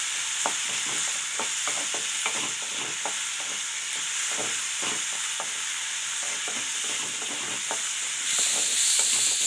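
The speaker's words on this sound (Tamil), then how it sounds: "இதையும் சேர்த்து நல்லா வதக்கிக்கலாம்." Chopped capsicum sizzles in a pan for an egg poriyal while a spoon stirs and scrapes in repeated quick strokes, close up over a steady frying hiss.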